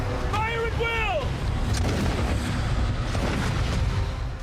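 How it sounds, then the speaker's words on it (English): Musket volleys crack out as troops open fire on charging British soldiers in a reenacted battle, with a sustained roar of gunfire following a shouted voice at the start. "Jackson's men in relative security could open fire on charging British troops"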